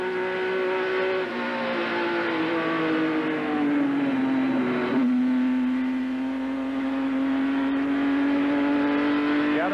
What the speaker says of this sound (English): you heard Kyle get out of the gas onto the brakes, and then once the car number 79 was spinning, he got back on the gas